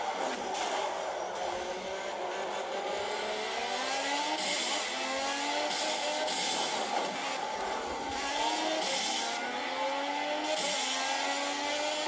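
A race car engine in the Project Cars racing game revs and climbs through gears, with repeated rising whines and shifts over a steady drone, loud and continuous for the whole stretch.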